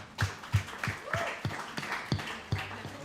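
Hands clap in a steady, even rhythm, about three claps a second, with faint voices murmuring underneath.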